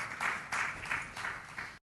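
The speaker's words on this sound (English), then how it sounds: "So a big round of applause to all of you" A short burst of applause at a marathon press conference, with claps arriving in a few even, rhythmic waves over moderate room noise before cutting off.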